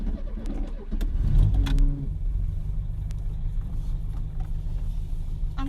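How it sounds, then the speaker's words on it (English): A 1.6-litre MK1 Ford Fiesta XR2 cranks over and catches, the start loud and close, then settles into a steady low idle rumble with a few light clicks and no talking. "Now I want to start this car up, so we push the key in, we turn it."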